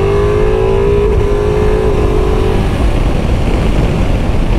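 Ducati Multistrada V4 motorcycle being ridden, a loud, close engine note that holds steady and then drops in pitch as the rider eases off, with wind rush throughout.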